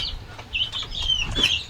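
Chickens kept in a house give a few short clucks and squawks close by over a low background rumble.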